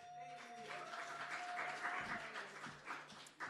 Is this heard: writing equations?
no